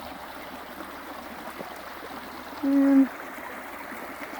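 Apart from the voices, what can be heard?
creek water flowing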